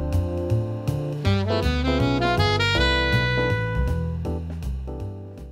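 Jazz harmony demo: a major triad built on the sharp 11 played over a dominant chord, sounding as a steady run of sustained, harmonically rich keyboard-like chords and melodic notes with no talk.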